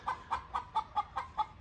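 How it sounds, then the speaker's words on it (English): Chickens in a backyard garden cluck in a quick, steady run of about seven short, fairly close calls. "Boy, those chickens are really, really going right now."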